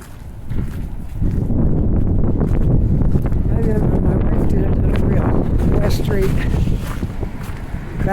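Strong gusting wind buffets the microphone on a very windy day while walking around Halifax's North End, a loud continuous roar with footsteps beneath it and faint voices.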